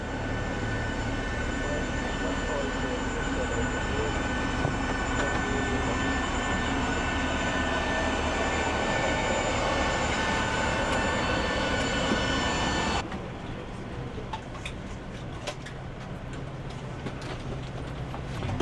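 An airliner's engines run steadily at an airport, a loud continuous roar with a high whine on top, close by; partway through the sound drops and becomes muffled, as if heard from indoors.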